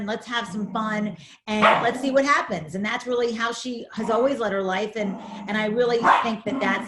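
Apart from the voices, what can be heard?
dog barking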